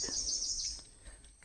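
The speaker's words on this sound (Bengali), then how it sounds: "শুধু পাখির ডাক" Birds calling in the Sundarbans mangrove forest, a high sustained chirping trill with a few short tweets over quiet background, fairly faint and distant.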